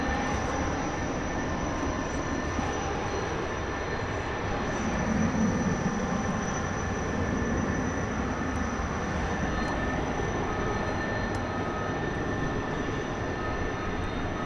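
An Airbus A300 departs DFW Airport at night, its engines a steady, broad roar at a distance, with a constant hum and no talk.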